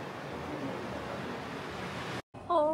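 Steady broadband wash of sea surf at a beach in Shuangyue Bay, loud and continuous with wind noise, cutting out briefly near the end before a faint tonal sound.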